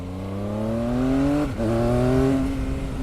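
Triumph Speed Triple RS 2019 motorcycle engine revving up, a loud close bassy drone climbing in pitch, dipping briefly, then rising again.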